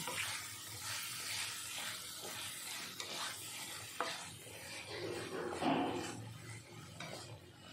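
Fried potatoes are stirred into sizzling masala in a pan for a crab curry, with soft scraping strokes and a low crackle of hot oil, quiet and close.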